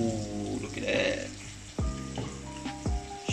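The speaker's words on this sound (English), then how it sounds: "so now we got the potatoes frying." Potatoes sizzle in a pan beside fish already cooked for a tilapia meal, a steady close hiss with a few sharp clanks and scrapes of utensils, no talking.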